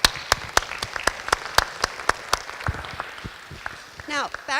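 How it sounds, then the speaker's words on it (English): Sparse, scattered clapping from a small audience at a school district network reconfiguration meeting, individual claps spaced out and fading before a voice starts to speak near the end. "We would give them a round of applause."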